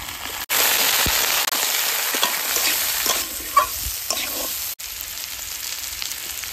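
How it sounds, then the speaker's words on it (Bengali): Mixed vegetables, kohlrabi, beans, pumpkin, cauliflower and carrot, frying in mustard oil, a loud steady sizzle with occasional crackles and stirring scrapes, close up and with no talk. "সব সবজি ভেজে নেওয়ার জন্য সর্ষের তেল দিয়ে দেবো।"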